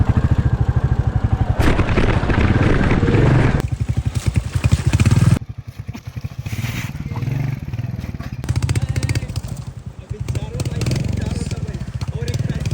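Royal Enfield and Bajaj Avenger motorcycles start up and ride off on a rough mountain road patch, with loud, close, pulsing single-cylinder thumping that fades as they move away, and voices talking nearby.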